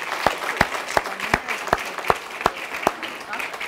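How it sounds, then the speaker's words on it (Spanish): A church congregation claps in unison for the King of Kings, about ten sharp, evenly spaced claps in a steady rhythm over a low background murmur. "Dele ese fuerte aplauso al Rey de Reyes"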